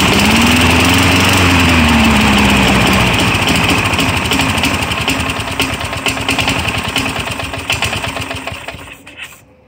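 A petrol lawn mower's small engine runs loud and close, its pitch sweeping as it revs after starting, then settles into a steady buzzing drone that fades toward the end before cutting off.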